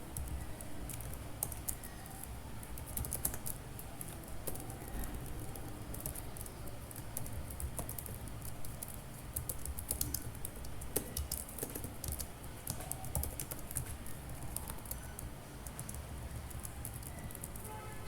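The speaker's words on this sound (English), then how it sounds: "maybe this will be faster to type" Quiet, continuous typing on a computer keyboard, with rapid irregular key taps running throughout against soft room noise.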